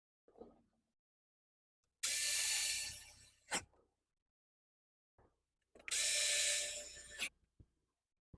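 A power tool drives T15 screws into the glove box of a 2014-2018 Chevrolet Silverado / GMC Sierra in two loud, whirring bursts of about a second and a half each. Short clicks and handling knocks come before and after each burst.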